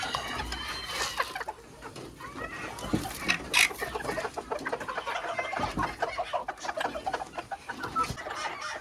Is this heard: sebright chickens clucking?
yes